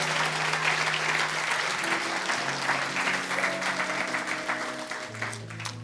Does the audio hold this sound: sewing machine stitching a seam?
no